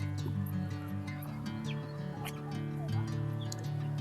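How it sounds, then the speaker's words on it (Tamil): Mynas and sparrows calling in a park garden in Coimbatore, a dense layer of chirps and tweets scattered over steady background hum, with no talk. "அந்த கார்டனில் நிறைய மைனாக்கள், குருவிகள் எல்லாம் அப்படியே கேட்குதா சவுண்டு"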